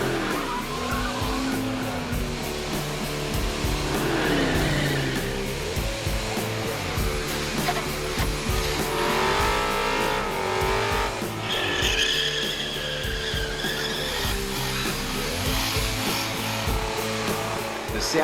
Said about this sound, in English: Commodores engulfed the place and themselves in freshly churned out tyre smoke, putting it all on the line for pride and trophies